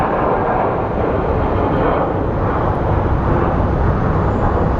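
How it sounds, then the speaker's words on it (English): Large airliner of a couple hundred tons taking off at Phoenix Sky Harbor International Airport, a loud continuous broadband jet roar that stays steady and close throughout. "We're watching like a machine that weighs a couple hundred tons take off."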